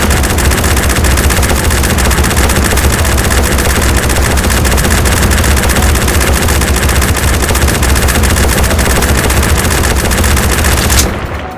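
FN MAG / M240B machine gun firing in a VR shooting game, one loud unbroken automatic burst that runs nearly the whole time and stops sharply at the end.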